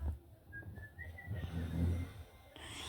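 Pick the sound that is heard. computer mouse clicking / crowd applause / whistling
whistling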